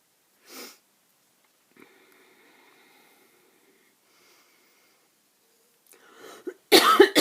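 A single short cough early on, then quiet with faint movement sounds, ending in a burst of harsh coughing and sniffing close by.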